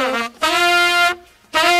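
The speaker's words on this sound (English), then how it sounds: "Whereas the trumpet 1 and tenor 1 are doing this like before" First trumpet and first tenor saxophone parts from a song: three short bright horn phrases separated by brief gaps, loud and close, no voices.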